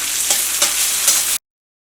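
Chopped onion frying in a hot pan for a Kerala mezhukkupuratti, a steady broadband sizzle with a few stirring scrapes, close and loud, cutting off abruptly partway through.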